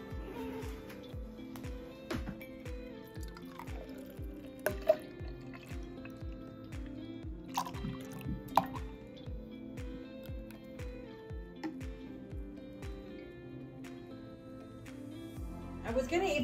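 Coffee brews with a steady, rhythmic dripping of liquid, close and moderately loud, repeating in regular pulses for a long stretch.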